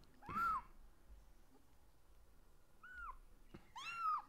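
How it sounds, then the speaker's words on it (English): A kitten meows three times, close and clear, in short rising-falling calls separated by quiet pauses. "Kitten is really needy this morning."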